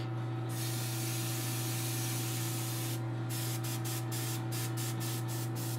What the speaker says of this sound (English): So when I say speckling, you don't spray up close, spray it far away.